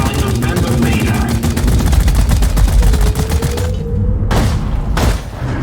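Rapid sustained gunfire in the video game Deep Rock Galactic, loud dense automatic bursts that cut off, followed by two sharp separate booms.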